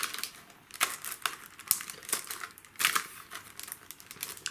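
Crinkly plastic packaging rustles and crackles continuously as StudioLight craft dies are pulled free, with irregular sharper snaps over a steady close-up crinkling and no talking.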